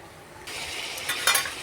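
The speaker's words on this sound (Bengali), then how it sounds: "কষা হচ্ছে, এখনও পর্যন্ত এটা কষছি আমি।" Curry being sautéed (kosha) in a pan, a steady broadband sizzle with scraping stirs that grow louder toward the end, heard alone without talk.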